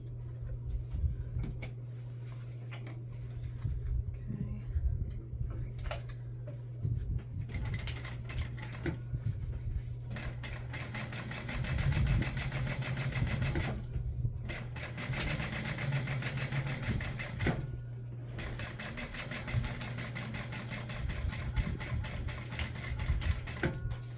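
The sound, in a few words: sewing machine top stitching a bag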